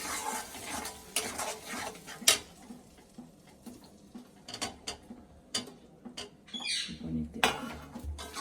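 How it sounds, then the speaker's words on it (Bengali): Paneer goes into a pan of spiced spinach and is stirred, giving intermittent close scrapes, clinks and knocks of a utensil against cookware with quiet gaps between. "পনির দিয়ে দিচ্ছি"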